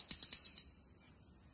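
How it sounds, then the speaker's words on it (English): Small handheld puja bell struck rapidly several times, bright metallic rings in quick succession that then fade out alone, close and clear. "a bell"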